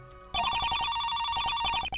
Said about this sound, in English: Oh, just a minute, I've got a call.